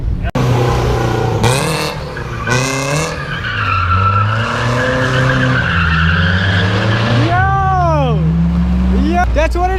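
At a car meet, a car skids through a clutch kick with long tire squeals and a revving engine. Loud shouting and crowd voices run over it, and rising whistle-like squeals come near the end.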